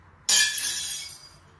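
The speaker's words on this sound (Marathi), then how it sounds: "काच फुटली" Glass breaks in one sudden bright crash followed by a short tinkling shatter that fades over about a second, heard clearly and alone at close range.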